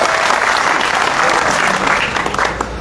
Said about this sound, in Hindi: ताली बजा दे भाई साहब।